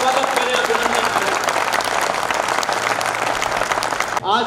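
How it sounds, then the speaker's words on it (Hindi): Loud, sustained applause from a large crowd welcoming a speaker at a public talk, dense clapping filling the whole stretch before it cuts off abruptly near the end. "एक बार जोरदार तालियां बजाकर हम उनका स्वागत करें"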